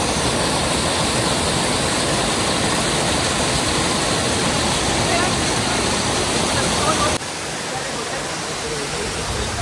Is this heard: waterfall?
yes